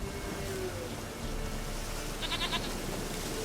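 A goat bleats briefly in The Witcher 3 amid steady ambient game noise, with a short nasal call near the end.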